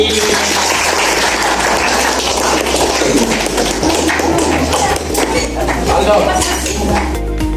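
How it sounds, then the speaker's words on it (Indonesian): A classroom of students applauds together, a dense, steady wash of clapping with some clinking that stays loud and unbroken for several seconds. "kalau begitu kita beri tepuk tangan dulu"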